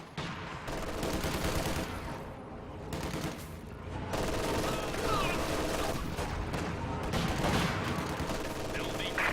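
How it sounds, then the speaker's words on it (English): Heavy machine gun fire in Company of Heroes 2 battle, sustained dense bursts and gunshots rattling throughout, loud and continuous with battlefield din, and a voice talking over parts of it. "Heavy machine gun fire!"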